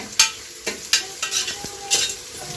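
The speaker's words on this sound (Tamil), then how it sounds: "மராட்டி மொக்கு, அனாசி பூ, சோம்பு எல்லாம் போட்டு தாளிச்சிட்டு இருக்கிறாங்க" Whole spices, marathi moggu, star anise and fennel, tempering in hot oil with onions for mushroom biryani: close crackling sizzle broken by several sharp spatula scrapes and clinks against the pan, no speech.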